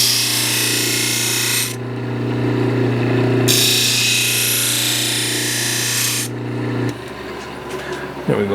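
A power tool rasps steadily while bolts secure a 5-cylinder radial engine stand to a workbench, in two long loud runs separated by a short dip, then it stops and quieter handling noises follow.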